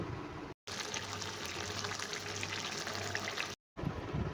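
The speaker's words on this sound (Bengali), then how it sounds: "শাকটা হয়ে গেছে, একটা পাত্রে ঢেলে নেব।" Cooked pumpkin-leaf ghonto in a mustard and poppy seed paste is poured from the pan into a bowl, a soft, wet, sloshing pour heard up close with two brief silent breaks.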